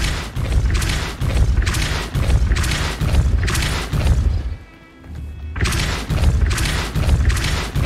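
Repeated Depulso repelling spell impacts in Hogwarts Legacy hit as a rhythmic series of loud, heavy thumps and booms, about a dozen strikes with a brief quieter gap midway, close and without speech.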